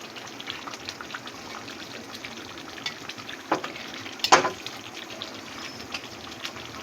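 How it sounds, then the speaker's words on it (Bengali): Coriander leaves are stirred into a fish curry gravy of mustard and poppy seed with pabda fish: a soft bubbling simmer with a few faint scrapes and one sharper knock. "এবার ধনেপাতাটাকে ভালো করে ঝোলের সাথে মিশিয়ে দেবো।"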